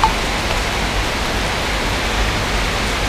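Steady rain pours down outside a roadside shop where two CBR500R motorcycles shelter, a dense, even hiss that holds constant throughout without any voices.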